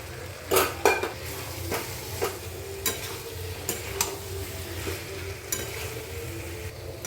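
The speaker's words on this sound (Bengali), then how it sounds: "এরকম অবস্থায় একটুক্ষণ কষাবো যাতে মশলাটা গায়ে লেগে যায় সবজিগুলোর" Mixed vegetables and green peas are stirred and sautéed in spices in a pan, with a steady sizzle under repeated scraping clinks of a spoon against the pan, close and fairly loud.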